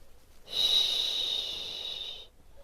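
A steady, close breath sound with a hissing, wheezy edge during a walking and balance exercise for pregnant women outdoors in autumn nature, lasting under two seconds and heard alone.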